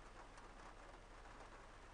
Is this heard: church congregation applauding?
no